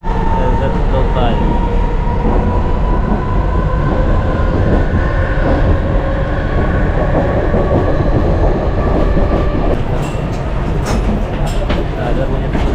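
A Mumbai local train runs toward Karjat with a loud, steady rumble and rattle of the carriages, and faint voices murmur inside the coach.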